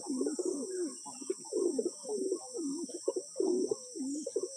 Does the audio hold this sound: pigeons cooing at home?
yes